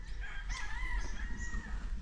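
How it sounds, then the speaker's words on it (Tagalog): Roosters crowing at a game farm in Cebu, a drawn-out crow rising over a steady background hum, fairly faint and distant with no talk. "Papunta doon guys yung manok ni Iwin."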